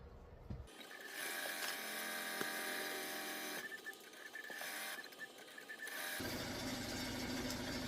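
Embroidery machine stitching lettering onto hooped fabric backed with cutaway stabilizer, a steady mechanical whir and rapid needle chatter that runs continuously and stops briefly partway through.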